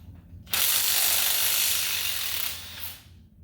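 Power tool running in low gear, not wide open, chamfering a part on an engine, a steady broadband whir that starts abruptly, holds for about two and a half seconds, then fades out, close and fairly loud.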